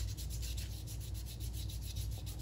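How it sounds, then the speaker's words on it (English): Sandpaper of 220 grit rubs back and forth over a ceramic repair being smoothed for kintsugi restoration, a soft, quiet, steady rasping in quick repeated strokes, close up with no voices. "There are some imperfection parts that I need to grind off. Using some sandpaper."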